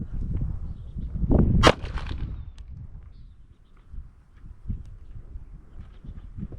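Gunshot during shooting training, one sharp loud crack in the middle of the clip over low rumbling background noise and shuffling, with a few fainter thumps afterward.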